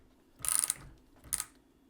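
A long Milwaukee ratchet gives two short, quiet bursts of close clicking, separated by a brief pause.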